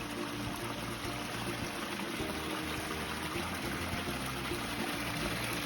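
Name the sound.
small waterfall trickling in ecosystem pond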